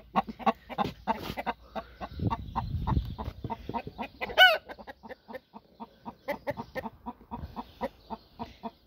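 Hens clucking in a backyard coop during morning chores, a steady run of short repeated clucks close by, with one louder squawk partway through and rustling underneath.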